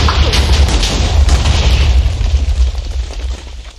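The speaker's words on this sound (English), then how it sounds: "Sorry, it explodes quickly." A TNT blast from the Minecraft TooMuchTNT mod roars loud and close, a sustained booming rumble with crackling debris that holds steady before easing off near the end, with no voices over it.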